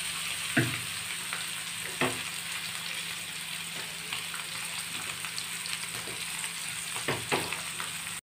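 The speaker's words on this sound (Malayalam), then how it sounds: "ഇപ്പോ നമുക്ക് മീൻ പൊരിച്ചെടുക്കാം" Fish frying in a hot pan for a Kerala-style pothichoru packed meal, giving a steady close sizzle with a few sharp pops and stirring scrapes, with no one talking.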